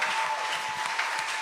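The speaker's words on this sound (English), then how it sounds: "So please give them all a round of applause" An audience at PorcFest 2023 gives a brief, steady round of applause, a dense wash of many hands clapping together at moderate distance.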